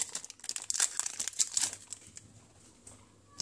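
Foil wrapper of a Pokémon Team Rocket first edition booster pack being torn open, bright close crinkles and rips in quick bursts that fade to softer rustling.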